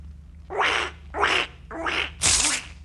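A broken toy duck gives four squawky quacks in a steady rhythm, close and fairly loud, in a radio comedy scene; no one speaks over them.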